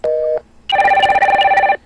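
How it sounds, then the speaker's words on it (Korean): A telephone announces an incoming call with a short electronic tone, then a longer, loud warbling ring of steady pulses, heard close and alone with no talking. "전화가 왔습니다."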